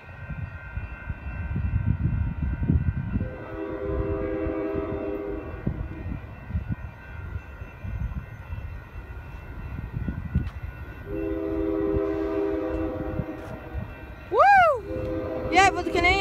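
A freight train, the Mission Bay local, passes at Burlingame with a Canadian National boxcar and locomotive 1092 leading. Its loud horn sounds in two long blasts over heavy rumble, while voices call out nearby.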